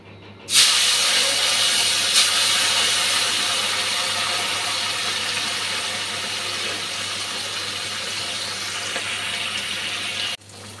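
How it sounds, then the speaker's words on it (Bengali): Hilsa fish frying in hot oil in a home kitchen gives a steady, loud broadband sizzle that begins abruptly, runs unbroken for about ten seconds and then cuts off, with no talking. "ওর জন্য মাছটা ভেজে নিচ্ছি, সঙ্গে আমারও একটা ছোটো টুকরা ভেজে রাখবো।"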